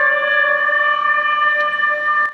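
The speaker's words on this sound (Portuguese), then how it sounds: "e o toque das sirenes" Memorial sirens sounding in Japan on the tsunami anniversary, a steady sustained wail with layered tones, loud and unbroken throughout, with no talking.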